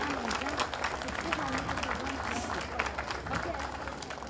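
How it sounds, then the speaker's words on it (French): A crowd at a school health-day awards ceremony gives a school a round of applause, steady clapping and crowd noise mixed with a sustained voice, held at even loudness throughout. "une bonne main d'applaudissements pour l'école Ernest Land"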